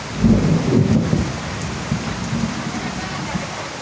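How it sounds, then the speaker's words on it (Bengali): Rolling thunder rumbles loudly at the start, then fades while constant rain keeps hissing. "অবশেষে বৃষ্টি শুরু হয়ে গেল"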